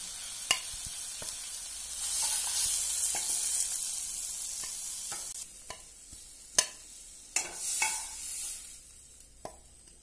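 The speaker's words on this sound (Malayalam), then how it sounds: "ഗ്രിൽഡ് പൈനാപ്പിൾ ഇവിടെ റെഡി ആയിട്ടുണ്ട്. ലോ സിമ്മിൽ ഇടണം." Spicy pineapple grills in a pan on low heat, with a soft steady sizzle under scattered sharp clicks and scrapes from a spatula or tongs turning the pieces, close up and with no talk.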